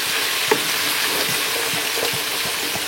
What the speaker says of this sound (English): A little white wine in the fennel. And we're just gonna deglaze this pan